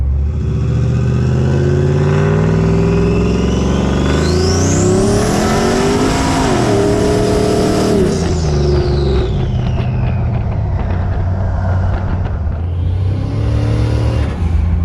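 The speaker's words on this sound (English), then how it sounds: "I'm already burning rubber at like 20, 30 mile an hour when I hit wide open throttle." Loud turbocharged car pulling hard at wide open throttle, its engine note climbing steadily through the rev range with a rising turbo whine, continuous and close.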